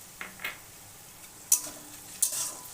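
Onion, ginger, green chilli and garlic paste stirred in a hot pan for a spinach and chickpea dish, with a low sizzle and three brief scraping strokes of a spoon, close up and quiet.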